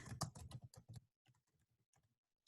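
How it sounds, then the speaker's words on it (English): Typing on a computer keyboard: a quick, close run of loud keystrokes for about a second, then softer, scattered taps. "So you can type in a sentence"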